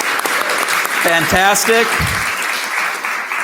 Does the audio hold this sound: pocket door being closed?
no